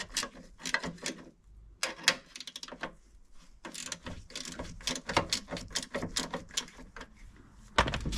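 Long bolts being undone on a Range Rover under restoration, with close, rapid ratchet clicking in repeated bursts separated by brief pauses.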